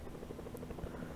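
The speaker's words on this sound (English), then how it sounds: "Oh, a helicopter." Helicopter in the Fortnite video game flying overhead, a soft continuous rotor thrum with a faint rhythmic chop, fairly distant and quiet with no talking.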